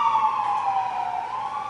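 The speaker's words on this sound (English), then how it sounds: "I'll let the ambulance get by." An ambulance siren passes outside during a city council meeting, sounding as a steady, loud wail with a slowly shifting pitch that holds for the whole stretch, with no voices over it.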